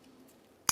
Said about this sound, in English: Trim off the excess.